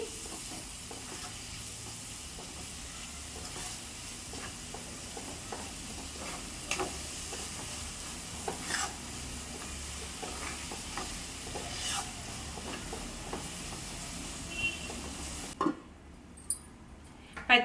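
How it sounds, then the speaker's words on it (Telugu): Masala paste gets stirred into food frying in a pan, a steady low sizzle under scattered scrapes and taps of a spoon, close and fairly quiet, ending with a few sharper clinks. "మసాలా పేస్టు వేసుకొని ఒకసారి మిక్స్ చేసుకుంటానండి"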